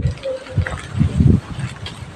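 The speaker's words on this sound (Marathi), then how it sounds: "आम्ही भरतोय पाणी पायपाच्या पाण्याने झाडांना पाणी घालते" Water gushes and splashes in short uneven bursts from a garden hose watering plants, running onto soil and leaves, close and fairly loud.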